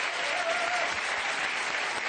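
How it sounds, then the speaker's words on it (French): Audience applause for Flavien the juggler at a concert, a dense, steady wash of many hands clapping at full strength throughout, with no break. "je vous demande d'applaudir Flavien, le jongleur"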